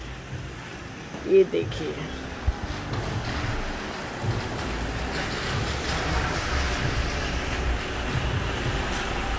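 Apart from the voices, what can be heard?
heavy nonstop rain, flooded garden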